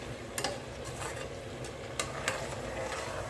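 Butter foams and simmers in a pan while turning into ghee, a soft bubbling hiss broken by a few sharp crackling pops.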